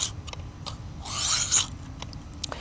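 A knife blade scraping along the abrasive of a Work Sharp guided sharpening system, heard as a few short close raspy strokes and one longer, louder grinding pass with quiet gaps between them.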